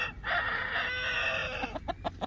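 A rooster crows once in a long, strained call close by in a farm chicken coop, then trails off into a few short clucks.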